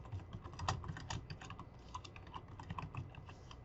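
Computer keyboard typing, a quick run of soft, close key taps with uneven rhythm and brief pauses between bursts.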